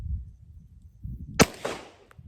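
A single sharp shot from a Taurus TS9 pistol cracks out during shooting practice after low rumbling, followed by a brief echoing tail.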